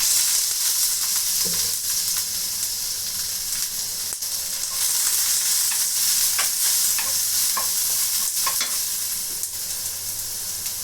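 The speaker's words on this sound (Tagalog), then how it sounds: "gigisa natin yung luya sa kanin" Ginger sizzles steadily in a hot pan with occasional stirring clinks and scrapes, a constant bright frying hiss filling the scene with no talking.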